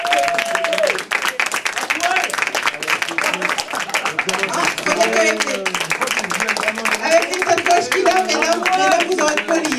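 An audience applauds comedian Romain, brisk clapping running throughout while a host keeps talking over it in French.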